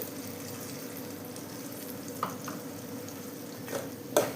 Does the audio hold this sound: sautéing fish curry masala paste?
yes